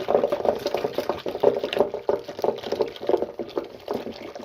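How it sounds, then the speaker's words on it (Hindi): Hand churner (madhani) working melted cream in a pot to bring up butter, giving a steady rhythmic sloshing and splashing of liquid, close and moderately loud, with no talk over it. "उसके बाद फिर इसको अच्छे से मधानी के साथ रगड़ेंगे ताकि ये इसका जो मक्खन है वो अच्छे से ऊपर आ जाए।"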